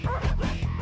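A pet dog barks and yips close by, a few short sharp woofs with a whimpering edge, sounding over a faint background voice.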